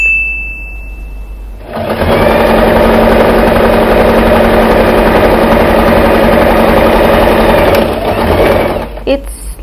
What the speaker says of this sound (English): we are going to sew this part.